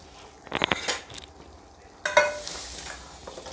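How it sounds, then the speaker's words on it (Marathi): Hot tadka of oil and red chilli poured into pav bhaji, a sharp sizzling burst followed by stirring and clinks of a metal spoon against the pan. "पावभाजीचा हा तडका घालून घेऊया मस्तपैकी."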